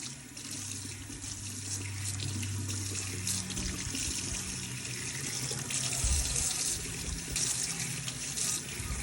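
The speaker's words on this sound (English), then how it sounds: "I'm going to rinse this out with warm water." Warm tap water runs steadily into a sink as dyed ostrich feathers are rinsed, a continuous close splashing stream with no talk.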